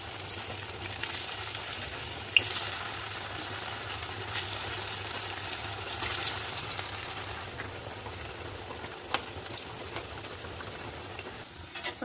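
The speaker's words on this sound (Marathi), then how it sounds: "आपण थोड्या वड्या तळून घेऊ." Coriander vadi pieces fry in hot oil with a soft, continuous sizzle and faint bubbling, quiet and steady with a few small pops.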